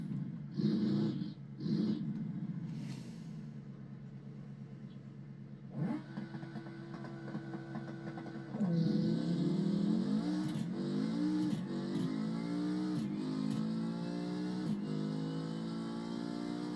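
A Civetta Scintilla sports car engine in BeamNG.drive revving hard, rising and dropping through several loud pulls, then settling into a sustained high-pitched accelerating whine with gear-change dips.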